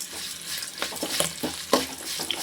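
Green chillies and ginger sizzle and crackle in a frying pan as they are stirred for coconut rice, short bursts of spatter and scraping, close and fairly quiet.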